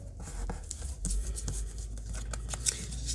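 Scissors snip through a piece of board while ephemera is being made, giving a series of close, crisp cutting clicks over a quiet background.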